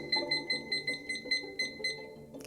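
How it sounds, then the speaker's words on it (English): A small kitchen timer gives a quick run of about ten short, evenly spaced high beeps as it is set, close and fairly quiet, with no talk. "I'm going to set my timer for 10 minutes."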